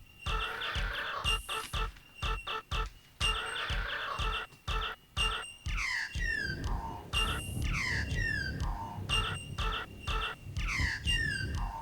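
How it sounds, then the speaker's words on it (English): Rhythmic chopped, edited bird calls repeat as a beat, with chopped bursts and then falling, laughing squawks like a kookaburra's call, moderately close, with no talking. "And of course, the kookaburra."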